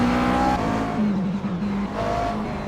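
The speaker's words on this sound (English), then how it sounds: "have to say I do love the sound of the McLaren as well" A McLaren race car engine in a GT racing simulator game at Circuit de Spa-Francorchamps roars loudly and continuously, its pitch shifting up and down through gear changes.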